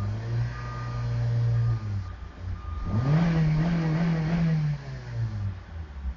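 A 2012 Honda Civic EX-L engine idles, then revs up in a smooth rising surge, holds a steady drone for a couple of seconds, and settles back down.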